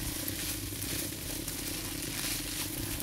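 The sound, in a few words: stirring fried rice with mackerel in a pan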